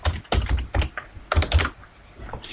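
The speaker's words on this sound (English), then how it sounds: "I simply start typing" Rapid bursts of typing on a computer keyboard while entering text into a shape in Microsoft Visio 2010, the clicks coming in irregular clusters, close and fairly loud, with no voices.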